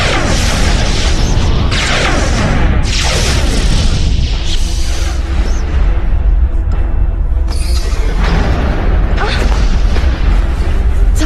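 Star Trek starship weapons fire and explosions in space combat, loud booming blasts and rushing bursts layered over a constant roaring rumble, with voices speaking amid the battle.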